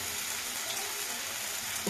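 Soya chunks cooking in a pan for soya malai curry with coconut milk, a steady close sizzle and bubbling hiss that holds even throughout.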